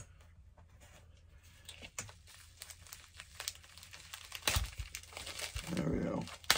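Someone struggles with a thick random sticker pack wrapper, crinkling and crumpling it with bursts of tearing and a louder rip near the end, under quiet talk.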